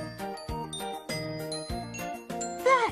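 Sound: cowbells ringing

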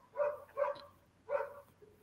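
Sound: dog barking

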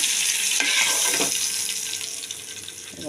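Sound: hilsa fish heads frying in oil

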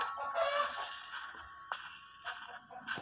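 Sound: chicken clucking in the video game House of Slendrina

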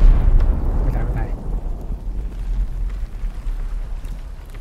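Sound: explosion in video game Sea of Thieves

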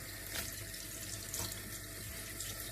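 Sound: tap water washing things in sink

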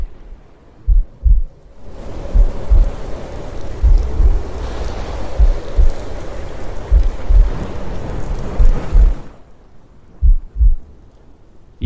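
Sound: rain and storm

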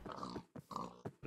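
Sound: pigs grunting in Minecraft video game

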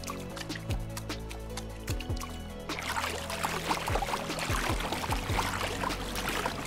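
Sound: underwater walking sound effect in video game

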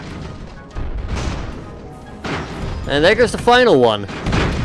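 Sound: rockets exploding on an airship in the video game Airships: Conquer the Skies

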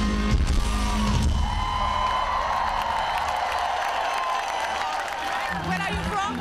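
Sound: rock concert crowd applauding and cheering

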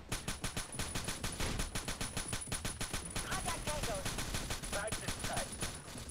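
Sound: gunfire in Rainbow Six: Shadow Vanguard video game

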